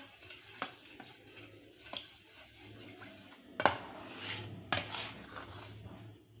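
A spoon scrapes and stirs a milk mixture in a separate pot while cooking sweet rice, steady rubbing strokes with a few sharp clinks against the metal rim, close and alone without speech.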